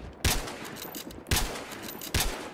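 Three loud gunshot bursts from Battlefield Hardline multiplayer on PS4 crack out at roughly one-second intervals, each followed by a short rumbling tail under faint background noise.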